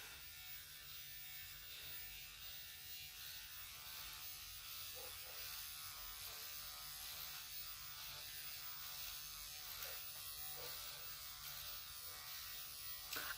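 A microneedling pen running at setting 1.0 gives a steady, even electric buzz that holds at constant loudness throughout, close by and with no voices.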